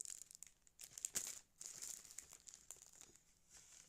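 Plastic packaging crinkles and rustles up close in quick, uneven bursts, fairly soft throughout.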